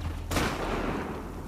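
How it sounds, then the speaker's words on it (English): A single loud gunshot cracks in The Last of Us Part II, a sharp close blast that trails off into a long reverberant wash, alone with no talking. "This is a bunch of gunfire."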